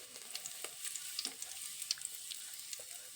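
Mustard seeds, cumin and curry leaves sizzle in hot oil for village-style shavige upma, a steady close crackle with scattered sharp pops and spits, no voices.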